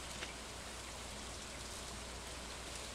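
Rain falls on a farm in the Stardew Valley video game, a soft continuous patter and hiss that stays even and unbroken, with no speech.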